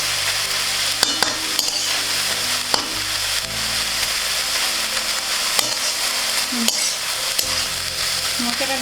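Chopped banana flower fries in a pan with a steady close sizzle, while a spatula stirs and scrapes, giving scattered clinks against the metal throughout; no one speaks.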